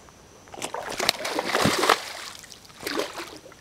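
A hooked two-pound bowfin thrashes at the surface, throwing a few bursts of splashing water close by, with louder slaps midway and another splash near the end.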